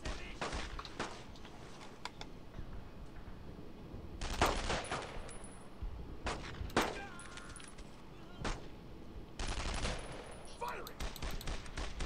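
Gunfire in the World War II shooter Brothers in Arms: Road to Hill 30 crackles in several sharp bursts and volleys with quieter gaps between them, steady ambient battle noise running underneath.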